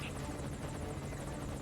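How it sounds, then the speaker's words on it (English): Helicopter flying in the video game Metal Gear Solid V: Ground Zeroes, a steady rotor drone with a continuous chopping buzz, constant and moderately distant, no voices over it. "last shot on the helicopter behind the building"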